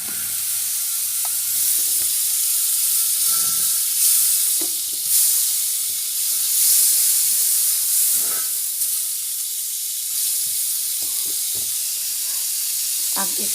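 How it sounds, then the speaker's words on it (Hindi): A spoonful of butter sizzles in a hot pan for tandoori tawa chicken, a continuous bright hiss with occasional stirring scrapes and soft clinks, close by. "हम इसमें बटर डाल देंगे"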